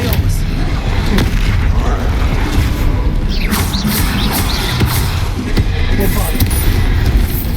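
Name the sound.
Bombarda blasting spell explosion in Hogwarts Legacy video game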